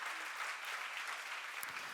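A church congregation applauds during a Bible teaching session, a dense, even wash of clapping from many hands that holds steady at moderate distance for the whole stretch.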